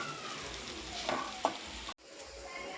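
Chilli powder, garam masala, coriander powder and chicken masala sizzle as they are stirred in a pan for a Kerala crab roast; steady frying hiss with scraping stir strokes, then an abrupt cut.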